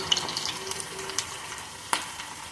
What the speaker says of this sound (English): that's them frying for her, waiting for them to be nice and golden brown.